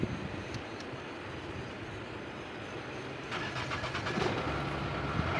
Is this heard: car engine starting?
yes